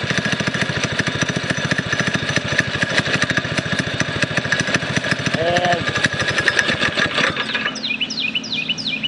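A Predator 212 cc small engine running steadily with a rapid, buzzy firing rhythm, loud and close, before it cuts out near the end and leaves quieter background sounds, with a brief word spoken.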